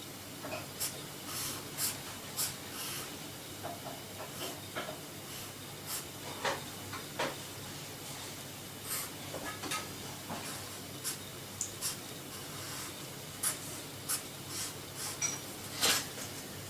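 A pencil sketches freehand on paper in soft, scratchy strokes that come in short irregular bursts, faint and close, with quiet pauses between them.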